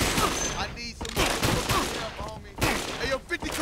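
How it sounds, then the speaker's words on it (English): Rapid gunfire from the 50 Cent Bulletproof video game bursts out in repeated bangs inside a warehouse, mixed in with busy game sounds and voice-like tones. "Somebody is shooting at me, bro, and I cannot see them."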